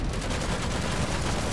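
Rapid continuous gunfire from a Gatling mech in Iron Harvest, a dense unbroken rattle of closely spaced shots, loud and near, filling the whole moment.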